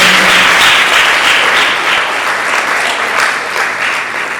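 A round of applause from an audience at a tech-for-girls panel in Accra, Ghana, loud and dense clapping that holds steady, then eases slightly toward the end.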